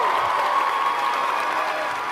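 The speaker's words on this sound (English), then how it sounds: "Let's give them all a round of applause." An audience at the Global Amazing Shake 2024 competition applauds with dense, continuous clapping and some cheering, steady and fairly loud throughout.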